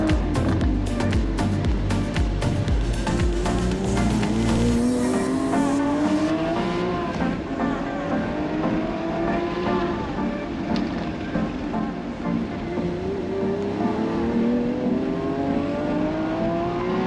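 Lamborghini SVJ on a race track in practice, the engine revving hard through repeated upshifts with rising pitch sweeps, loud and close from onboard, with a steady road and wind roar beneath and no talking.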